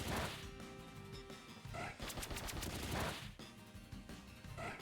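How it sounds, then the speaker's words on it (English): Pin Missile attack effect from a Pokémon video game, a loud burst of rapid sharp impacts and crashing hits repeating over several seconds with no talking. "That did a lot of damage for Pin Missile."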